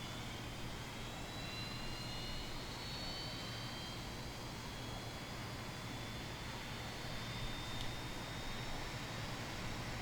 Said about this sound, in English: Engine 1 is firing up.